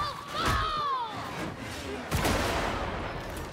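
Sniper fire in the Warhammer 40,000 Darktide video game: two sharp, loud gunshot blasts about two seconds apart, with whooshing game effects and a rumbling tail.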